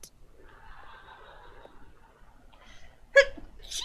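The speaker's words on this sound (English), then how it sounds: "sneeze again" One sharp, sudden sneeze bursts out near the end, following a few seconds of faint, quiet background sounds.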